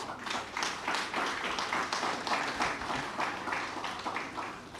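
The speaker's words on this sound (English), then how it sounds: "you owe yourself a huge round of applause for that" An audience applauds at the commissioning ceremony of W.S. Stevens Primary School, with steady, dense clapping that stays fairly loud and even throughout.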